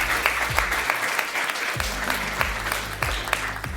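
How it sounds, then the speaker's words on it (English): A book launch audience gives a round of applause, steady, dense clapping that carries on throughout at a fairly close, even level, with a low voice murmuring underneath. "So a round of applause to you"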